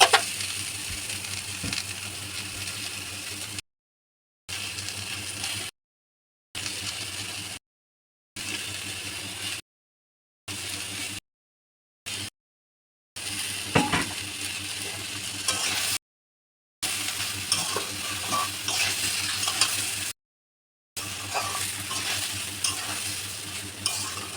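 Shyama rice stirs and fries in oil in a pan for khichuri, a close, continuous sizzle with scraping spoon strokes, broken by several short silent gaps from cuts, with no voices.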